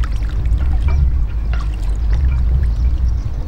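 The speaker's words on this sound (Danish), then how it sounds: "når jeg sætter min pagaj i, at den lige får lov til at skære sig ned i vandet" A Greenland paddle blade slicing into the water on a kayak forward stroke, giving a steady run of soft, close splashes and trickles over a low, constant background rumble.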